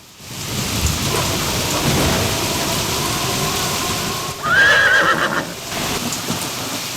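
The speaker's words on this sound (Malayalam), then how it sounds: "എന്തൊരു കാറ്റും മഴയുമുള്ള രാത്രിയാണിത്" A thunderstorm: loud rain and gusting wind roar with low rumbling thunder, and a horse whinnies sharply partway through before the downpour continues.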